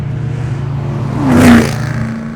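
A 2005-2009 Mustang GT fitted with a handling pack drives through turns, its steady low engine drone swelling briefly with a throttle rise and a tire or road whoosh midway before settling again.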